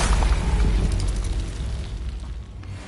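A Confringo blasting curse explodes in a Harry Potter video game, a loud heavy boom with crackling debris that rolls and gradually dies away, with no voices.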